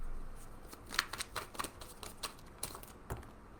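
Tarot cards being shuffled with a few flying out, a run of quick soft riffling snaps and flicks, close and fairly quiet, with no talk.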